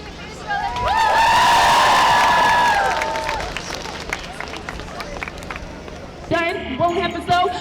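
A climate protest crowd on city centre streets lets out a loud cheer that swells and holds for a few seconds, then fades into murmuring. A shorter burst of shouting rises near the end.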